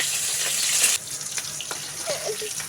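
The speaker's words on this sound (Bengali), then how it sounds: "হলদি দিয়ে লবণ দিয়ে অল্প একটু হালকা করে ভেজে নেব" Hilsa fish pieces frying lightly in oil with turmeric and salt, a close, steady sizzle and crackle that drops to a softer, intermittent hiss halfway through as the fish is turned.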